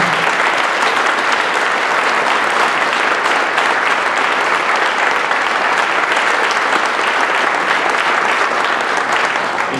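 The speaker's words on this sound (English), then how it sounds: "that deserves a round of applause" An audience at a university celebration applauds, a dense, steady clapping that stays loud and even for about ten seconds without pause.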